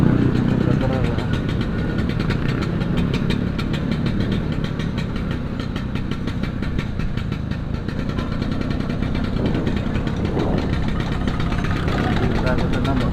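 A motorcycle engine idles steadily and closely throughout, a continuous mid-pitched rumble that never lets up.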